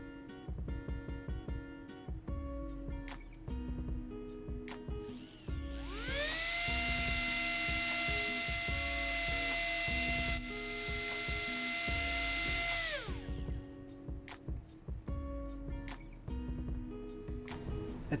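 A high-pitched surgical drill bores into a rat's skull during epidural EEG electrode surgery, whining steadily for several seconds mid-clip between softer mechanical clicks and ratcheting taps, close and alone.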